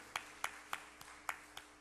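Applause welcomes someone to the front at a church youth service: faint, distant claps arriving in a steady, evenly spaced rhythm, sparse and quiet, with no talking.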